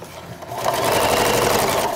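A sewing machine stitches a small fabric piece while a placemat is made into a tote bag: a quiet start, then a steady, close, continuous mechanical whir running to the end.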